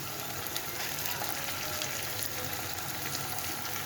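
Tomato sauce fries in leftover onion oil while being stirred, producing a dense, even sizzle that holds steady and close throughout, with no voices.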